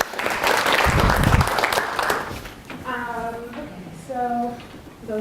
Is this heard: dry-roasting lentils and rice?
no